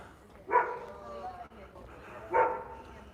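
Dogs bark twice at a moderate distance during an outdoor walk, each a short sharp bark spaced about two seconds apart, over quiet background.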